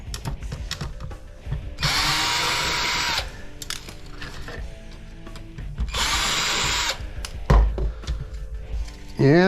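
A power drill backs screws out of an electronics board being scrapped, with two distinct high whirring bursts separated by quiet handling clicks and rattles of parts.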